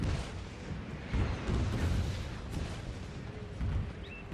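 Artillery fire in the Total War: Fall of the Samurai video game: a dense, rumbling battlefield din with repeated low booms that come and go over a steady background roar, fairly distant and muffled.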